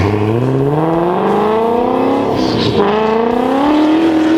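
A turbocharged combustion-engine car accelerating hard through the gears, its engine note climbing steadily, dipping at a shift with a brief airy whoosh, then rising again, loud and continuous with no voices.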